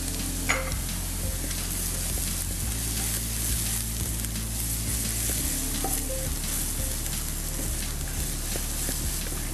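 Chopped garlic frying in a pan for a Ramadan dish, a steady close sizzle running the whole time with faint stirring scrapes and a low background hum.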